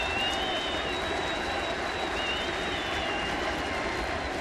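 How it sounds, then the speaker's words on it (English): Stadium crowd at a Yankees versus Blue Jays baseball game in Toronto, steady dense roar and applause with scattered whistles after a home-team run, loud and sustained throughout. "This is the most noise we've heard out of the crowd here tonight"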